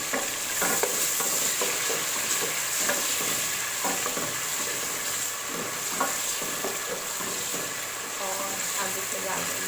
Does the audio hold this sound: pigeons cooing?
no